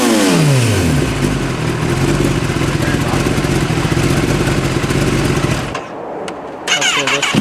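A 2023 Kawasaki ZX10-R sport bike runs loud and close, its engine rising in a rev before the throttle drops off, briefly quieting, then blipping up again as voices chatter nearby.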